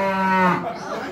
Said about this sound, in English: Well, that's clearly a cow, isn't it?